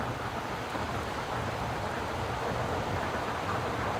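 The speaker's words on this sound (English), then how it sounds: "Oh, serious wind gusts just starting to pick up here." Strong wind gusts outdoors buffet the microphone in a continuous, loud, rushing roar with no pauses.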